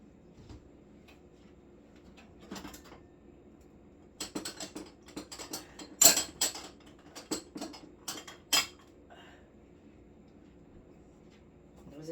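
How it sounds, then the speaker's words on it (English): Two eggs cracked one after another into a mixing bowl for whoopie pie batter, heard as sharp shell taps and small clicks near the mic in a quiet kitchen, with a cluster of crisp knocks midway. "I always hate cracking an egg in my bowl"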